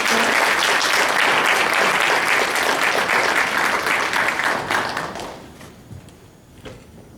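Audience applause at a UFO conference lecture, a full, even round of clapping that holds for about five seconds and then tapers off into scattered claps and room quiet.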